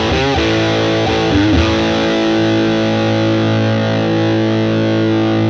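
Electric guitar through an Ibanez mini phaser pedal rings out as sustained, loud chords, a few strums at the start then a long held tone with a sweeping, swirling phase motion.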